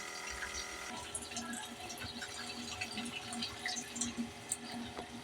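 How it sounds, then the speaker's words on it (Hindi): Water is poured into a bowl of chopped onions and yogurt in a home kitchen, a soft, quiet trickle with faint drips and clinks. "ये हमने थोड़ा सा इसमें पानी डाल दिया।"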